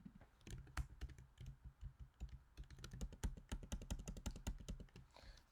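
Rapid typing on a computer keyboard, with close, crisp key clicks in an uneven, continuous rhythm and no talking.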